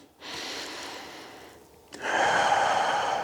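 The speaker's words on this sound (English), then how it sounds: "Breathe in and out." Deep, steady breaths in and out during a lower-back stretch lying on a foam roller, close and fairly loud, with a quieter inhale giving way to a longer, stronger exhale.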